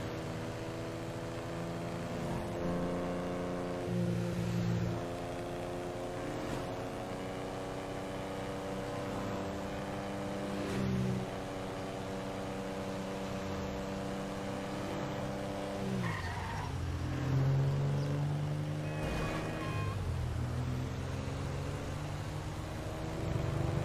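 A car in the GTA V video game drives toward a truck stop, its engine droning with shifting pitch through gear changes, broken by repeated tire screeches and skids, with no talking.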